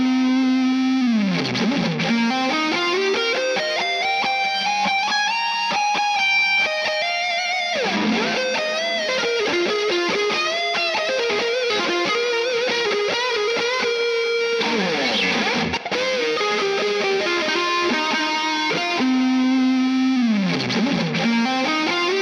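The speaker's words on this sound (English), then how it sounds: "take a listen without it, and then I'll kick the hall reverb in" A sustained, distorted lead guitar melody with bends and long ringing notes, washed in spacious hall reverb that lets each phrase trail off.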